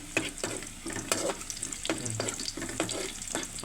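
Garlic sautéed in a pan, with a steady oily sizzle and a spatula scraping the metal in rhythmic strokes roughly every half second, close and fairly loud, with no talking.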